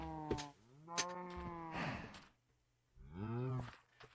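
A cow in the Minecraft video game moos several times, with clear low drawn-out calls separated by short pauses.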